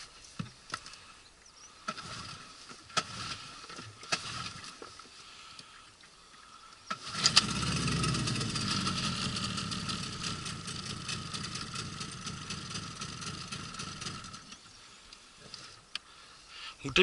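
Suzuki 9.9 hp outboard motor on a 430 cm PVC boat in shallow water, faint at first, then starting up and idling steadily for several seconds before dropping away; no talk is heard.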